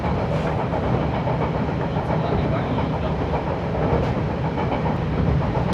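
An Akita Nairiku Line train runs on rails through autumn countryside, heard from aboard as a loud, constant rumble and rushing noise with faint rhythmic clicks.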